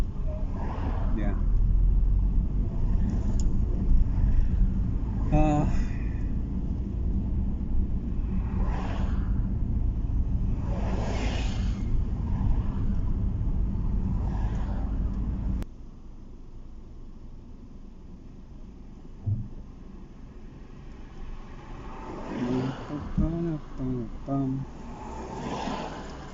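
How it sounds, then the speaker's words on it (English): Cars idling and creeping forward in an everyday traffic jam, a steady low rumble heard from inside a vehicle that drops to a quieter level partway through, with people talking over it at times. "Still stuck in traffic, by the way."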